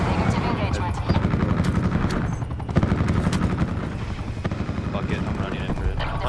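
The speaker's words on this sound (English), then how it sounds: "No, the chopper." A helicopter in a shooter video game beats with a steady rotor throb, mixed with bursts of gunfire and explosions, and voices talk over it throughout.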